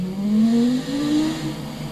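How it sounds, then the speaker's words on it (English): A video game car engine pulls in first gear with a loud turbo whistle rising in pitch, dipping briefly, then climbing again, louder than the engine's own drone over two seconds. "The whistling from the turbo is louder than the engine."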